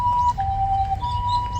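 An emergency vehicle siren wails along a street, a steady high tone shifting pitch in long sustained notes, heard at moderate distance over low rumbling traffic noise.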